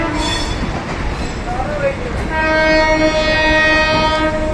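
A Midnapore local train rumbles past close by near Kharagpur, its loud sustained horn blaring over the roar of wheels on the rails.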